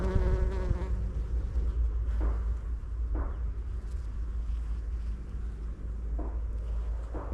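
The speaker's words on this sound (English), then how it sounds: "And they're covered in bees," Honeybees hum in a low, steady drone around blooming weeds beside a waterway park trail in St. John's County, Florida. The buzzing is continuous and fairly close, with brief louder passes over a rumbling outdoor background.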